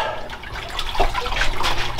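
Water pours into a bucket for cleaning while a bonsai cold frame is prepared, a continuous close splashing trickle that swells slightly toward the end.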